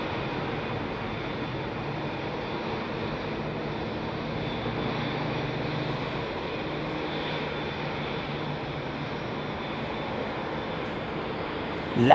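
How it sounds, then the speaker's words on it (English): A Boeing 767 airliner at London Heathrow Airport, readying for takeoff, produces a steady, broad engine roar that holds level throughout, moderately distant, with a brief louder bump at the very end. "Nice 767. Getting prepped for takeoff."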